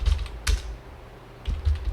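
Short bursts of keystrokes on a computer keyboard running Tally Prime, a quick cluster of taps, a single sharp key press, then another cluster, close and fairly quiet.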